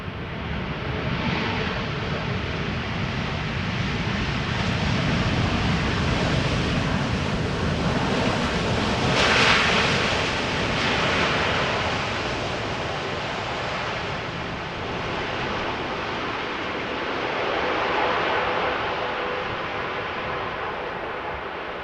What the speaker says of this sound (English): That Dreamliner is already almost touching down